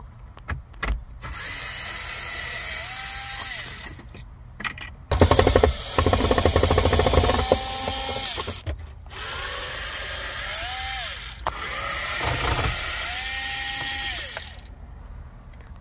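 Power drill driving out screws from a 2012 Jeep Wrangler dashboard, several whirring bursts with ratcheting clicks and rising motor pitch, separated by short pauses, close up.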